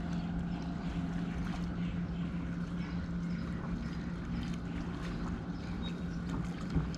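A fishing boat trolls on Lake of the Ozarks with a steady low motor drone and water wash, plus some wind noise on the microphone, continuous and even throughout, with no talk.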